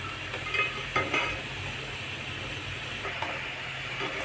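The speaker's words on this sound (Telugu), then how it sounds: "ఇలా కలుపుకుంటూ ఇలా ఇంట్లో కలర్ మారే వరకు కాల్చుకోవాలి" Idli-batter bondas sizzle steadily in hot oil while being stirred. Several sharp scraping knocks of the spoon cut through the continuous frying hiss, close and fairly loud.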